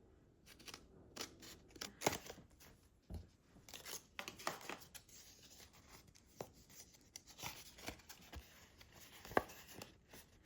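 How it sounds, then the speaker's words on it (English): Scissors snip through paper squares for an origami cootie catcher, a series of sharp close cuts in an uneven rhythm, with faint rustling of paper between them and no talking. "So just go ahead and cut up these 4 squares."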